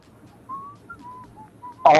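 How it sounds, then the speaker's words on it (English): A person whistles a soft, wavering tune of short separate notes, alone and fairly quiet, before a louder burst of sound cuts in at the end. "Somebody's whistling."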